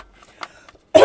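A single loud, close throat clear at the end of a quiet moment during a live tarot reading, a brief rough burst with no talking over it.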